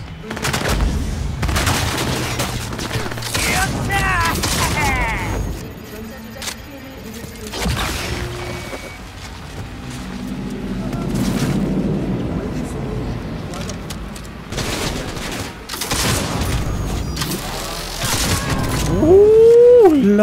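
An electric shotgun fires in Cyberpunk 2077 amid combat, with several loud bursts and crackling shots spread across the stretch, mixed with other game sounds, while someone talks over much of it.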